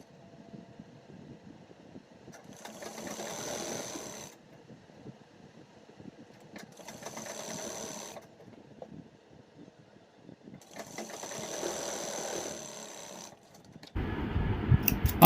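Sewing machine stitching the turned-over margin of a palazzo waistband, running in three bursts of about two seconds each, close and even-toned, separated by near-silent pauses, with a louder rustle at the end.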